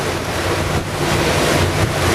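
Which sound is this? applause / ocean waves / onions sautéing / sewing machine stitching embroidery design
ocean waves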